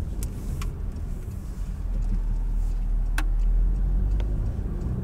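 A 2018 Porsche Macan Sport Edition's four-cylinder turbo engine runs with a low, steady rumble that swells slightly partway through, with occasional faint ticks and clicks on top and no talking.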